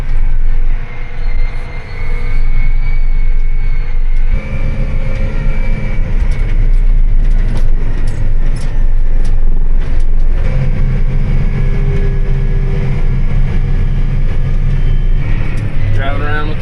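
A tractor pulling a corn planter on a long road drive, a loud, steady engine drone with rattling and rumbling throughout and brief shifts in pitch; someone talks over the noise.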